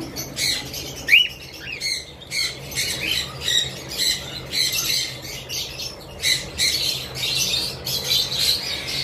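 Farm birds kept in an enclosure calling steadily, a dense mix of squawks, chirps and sharp repeated calls close by, with a low hum underneath and no speech.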